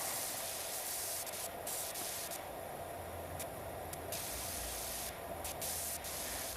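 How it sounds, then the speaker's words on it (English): A pressure washer in PowerWash Simulator 2 sprays continuously as a loud, steady hiss from start to end, with faint clicks scattered on top. "Now let's look at our sprayer"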